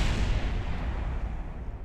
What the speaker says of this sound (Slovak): Vyzerá to, že Jeb už dopadol a že to neprežil